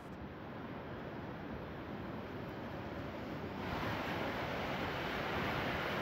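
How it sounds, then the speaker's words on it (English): Raging river of snowmelt in the Wenatchee Mountains rushing beneath a viewing platform, a steady broadband roar of whitewater that holds level throughout and swells slightly louder partway through, with no voices. "watch the raging meltwaters flowing beneath us"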